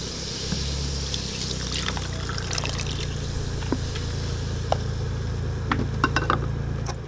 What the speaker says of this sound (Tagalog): Tapos, lalagyan po natin ng mga 1 cup itong Sprite.